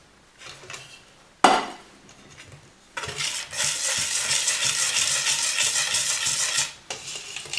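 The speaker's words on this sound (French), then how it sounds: "Et on mélange à nouveau." Sifted flour being stirred into a whisked sugar batter for a sponge roll: soft scraping at first, a sharp clatter, then a sustained loud whirring and swishing of mixing, close and without speech.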